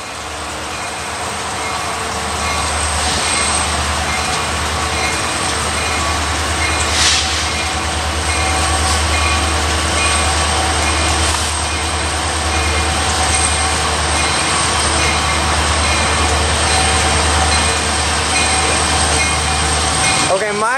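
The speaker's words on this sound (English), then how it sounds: "it's a grain train." A freight grain train passes close by with a steady, loud rumble of wheels and cars lasting the whole stretch, with occasional faint squeals over the low drone.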